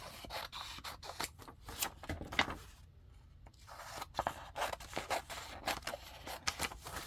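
Scissors cut the white edges off a paper printable in a close, steady series of crisp snips and paper rustles, with a brief lull partway through before the cutting resumes.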